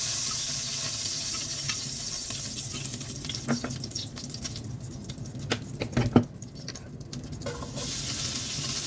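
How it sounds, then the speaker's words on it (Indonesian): Shallots and garlic sauté in oil in a pan, giving a soft, steady sizzle with a few clinks and scrapes from stirring, close but fairly quiet and with no talk. "Tumis bawang merah, bawang putih sampai dengan harum"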